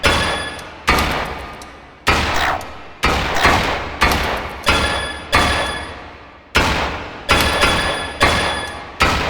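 Gunshots in a basic shooting video game: a series of about nine sharp, loud single shots, each with a decaying tail, fired at an uneven pace roughly one per second, with no talk.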